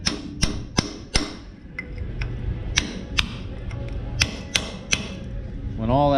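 Someone hammers on an axle housing resting on the ground, producing a series of sharp, ringing metallic blows spaced irregularly, close by and loud, with a short rising whine near the end.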